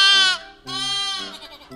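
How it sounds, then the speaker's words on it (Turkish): A goat bleats loudly and close, a long wavering cry followed by a second drawn-out bleat, with no voices. "İşte bu bir keçi."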